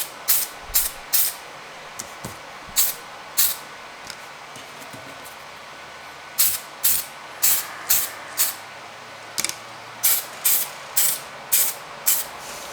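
Short sharp hissing blasts of matte flat coat from a spray can or airbrush onto scale model firetruck parts, about twenty quick bursts in irregular clusters, close and fairly loud with pauses between.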